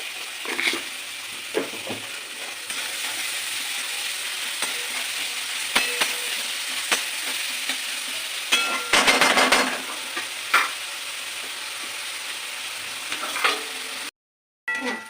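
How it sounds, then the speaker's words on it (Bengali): Salted onions fry in a pan and are stirred, giving a continuous sizzle broken by repeated scraping and clattering strokes of a spatula, with a brief silence near the end and no talking. "পেঁয়াজটা তাড়াতাড়ি ভাজা হয়ে যাবে।"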